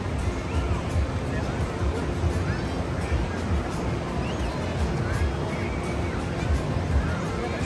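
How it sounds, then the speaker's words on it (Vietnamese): Big sea waves roll in along the coast of Nam Dinh, Vietnam, a steady, loud roar of surf and wind noise that fills the whole stretch without pause. "Sóng to đấy chứ."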